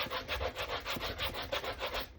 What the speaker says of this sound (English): Take our sanding sponge.